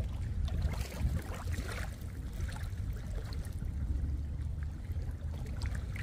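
Water flows and laps steadily outdoors, with low rushing tones and gentle splashes under light wind buffeting close to the microphone.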